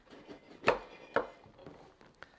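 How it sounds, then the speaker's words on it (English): A knife coarsely chops bell pepper on a cutting board, several sharp irregular knocks with two louder strikes, close and otherwise quiet. "just coarsely chopping it so you don't have chunks floating around in your sauce"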